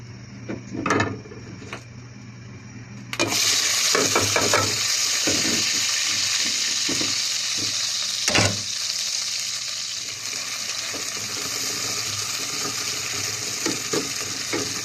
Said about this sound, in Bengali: একদম পেঁয়াজ রসুন আর মরিচটা একটু কষাই নিতেছি